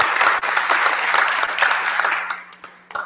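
Applause breaks out at a township committee meeting, a small audience clapping steadily at close range and tapering off near the end, with brief scattered voices.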